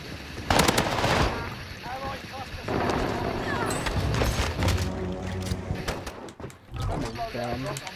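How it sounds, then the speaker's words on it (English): Bursts of rapid gunfire from a console shooter video game play in quick volleys, mixed with a player's excited shouting over the game sounds. "Oh my god, who's shooting me?"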